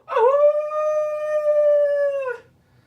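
A single sustained howl, close and loud, rising at the start then holding a steady tone for about two seconds before trailing off, with no talk. It may be a person imitating a wild canine.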